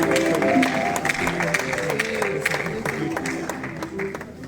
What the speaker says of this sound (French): On applaudit pour le frère Blanchard